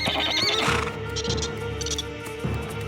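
A cartoon horse neighs and whinnies loudly and close, with hoof clip-clops and a music bed underneath, in a frightened scene in puma territory.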